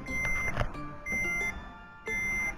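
A car's reverse parking sensor beeping, with steady tones that switch on and off in two long bursts, sounding fairly close inside the vehicle against a low background hum.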